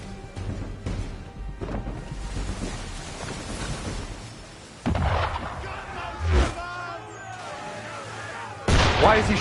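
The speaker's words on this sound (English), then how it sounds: "Why is he shooting at us?" Cannon fire aimed at a ship in Assassin's Creed 3, with several heavy booming blasts bursting out over a windy, surf-like background, the last near the end.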